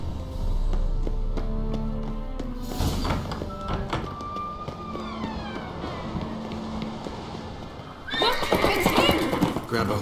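A horse in The Witcher 3 whinnies with a long, clear, wavering neigh, and hooves clip-clop beneath it over game music, with a burst of action sounds near the end.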